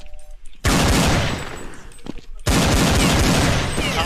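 Rapid carbine gunfire from a video game erupts in two loud sustained bursts separated by a quieter pause with faint shuffling.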